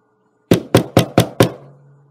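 A door is knocked again with five sharp, close knocks in a steady quick rhythm, each leaving a brief wooden ring in an otherwise silent space.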